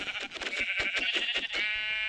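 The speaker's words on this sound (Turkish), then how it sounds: "Ah koyun." A sheep in a video game bleats in a series of rapid, wavering pulses, close and clear, ending in a sustained tonal note.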